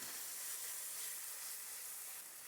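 Garlic and ginger sizzle in a hot pan for Sichuan mapo tofu, a bright continuous hiss heard up close and alone.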